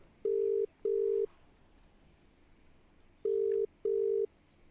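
A telephone ringing tone sounds in two double rings, each pair of short buzzing pulses separated by a long pause, over quiet background hiss.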